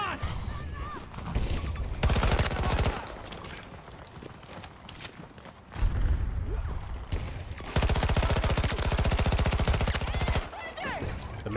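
SMG magazine dumps in Battlefield 2042, fired as loud rapid bursts in two long stretches with quieter gameplay noise in between.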